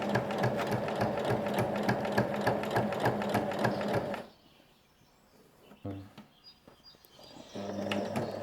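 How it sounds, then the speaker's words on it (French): A sewing machine stitches about 5 mm from a fabric edge with a fast, steady mechanical rattle. It stops for a quiet pause, restarts briefly, then runs again at the same rapid pace. "je pique à environ 5 mm du bord et je fais tout le tour"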